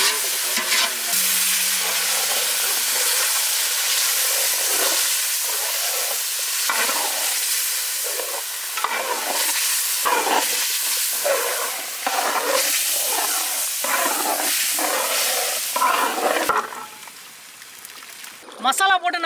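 Mutton frying in a spiced masala with onions in a pot over village-style cooking, a loud continuous sizzle broken by repeated stirring scrapes, with a voice speaking over it.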